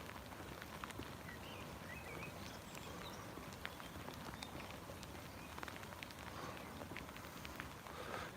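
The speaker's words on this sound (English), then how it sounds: "Yeah, that rain, guys." Rain during an outdoor walk, a faint, continuous hiss of drops on the ground with scattered tiny patters, steady throughout and with no voices.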